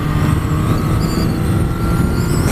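Honda CB1000R+ motorcycle carrying two up on a motorway in sixth gear around 4,000 rpm, accelerating from about 68 mph: a steady, loud engine drone with heavy wind rush, continuous and close.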